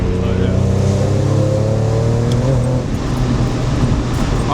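A 600 hp BMW E46 M3 engine drones steadily from inside the cabin while accelerating, a loud sustained rumble with slowly rising harmonics and road noise beneath it.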